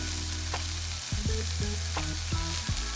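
Breadcrumbs frying in melted butter in a pan make a steady, dense sizzle that lasts throughout, with a few light scraping and stirring knocks layered over it.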